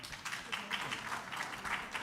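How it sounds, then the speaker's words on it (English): An audience at a cardiology meeting gives a steady round of applause, dense clapping that holds evenly throughout at moderate loudness. "give a big round of applause again"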